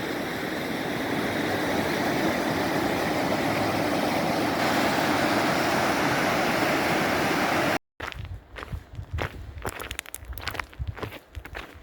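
The Snake River rushes in a dense, steady roar of flowing water heard up close along a backcountry trail, then cuts off abruptly into quieter, patchier outdoor sound with scuffs.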